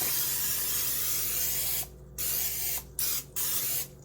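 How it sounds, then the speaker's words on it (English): A can of non-stick cooking spray hisses in several bursts: one long spray, then two short ones and a final spray, close by with no talking. "just spray it with some non-stick spray"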